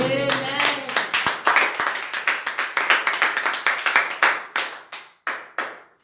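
A congregation claps at a church service to acclaim the Lord. The sharp hand claps run in a quick, loud, even rhythm, then thin out and slow to a few scattered claps at the end.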